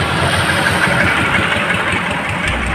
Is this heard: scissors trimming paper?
no